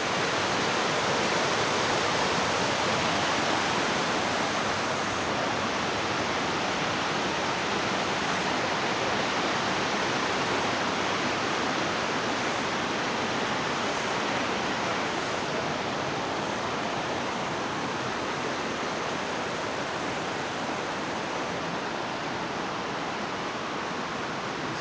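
Running water at Oxford Falls cascades and waterfall in Sydney, a loud dense continuous rush of falling water that stays steady and close for the whole stretch, with no voices over it.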